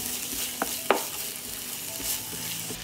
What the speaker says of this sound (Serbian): Mast se ugrejala i dodat ću crni i beli luk i propržit ću.